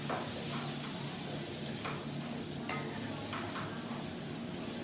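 Coriander powder and garam masala are stirred into hot oil in a pan for a crab roast, a dense, even hiss of frying with a few faint scraping strokes, steady and close throughout, no speech.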